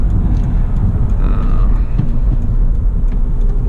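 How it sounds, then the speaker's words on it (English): Steady low road rumble and tire noise inside a 2007 Honda Accord V6 with manual gearbox cruising at highway speed, a continuous even drone with no talking. "There's just some road noise at highway speeds"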